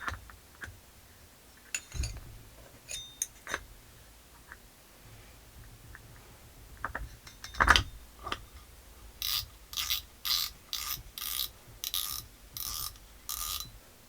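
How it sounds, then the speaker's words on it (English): Penn Slammer 3 spinning fishing reel turned by hand for a functional check: scattered clicks and clunks, then a run of rhythmic ratcheting bursts from the handle cranking, close and fairly quiet. "Now we're going to perform a quick functional check and make sure everything feels smooth on the reel"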